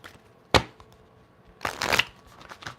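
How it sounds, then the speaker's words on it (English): Playing cards are shuffled twice, each a quick crisp riffle, the first a short sharp burst and the second a longer rustling run, close and clear in a quiet room. "let's get a quick shuffle"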